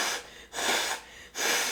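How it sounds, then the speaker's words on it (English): Person with a cold blowing their nose in three forceful, breathy blasts with short gaps between them, close to the microphone. "yes, I'm blowing my nose on camera."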